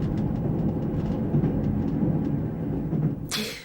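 A train carriage rumbles along steadily on a journey, a continuous low roar with faint rhythmic clacks, ending with a brief bright hiss near the end; no talking.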